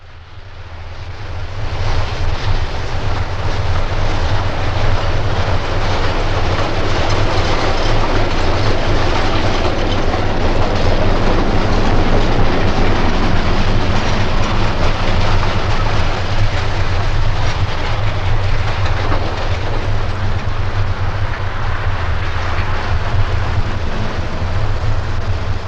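A South Shore Line locomotive running light rumbles steadily along the rails with a deep, continuous engine drone and a constant wash of wheel noise, close and loud throughout.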